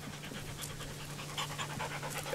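A dog pants rapidly and steadily up close, quick rhythmic breaths repeating with soft background hum and no voices.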